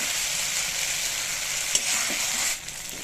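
Spice paste frying in oil in a pan for an egg and red lentil curry, a dense, steady sizzle that holds close and loud throughout, with a few faint stirring knocks near the end and no voices.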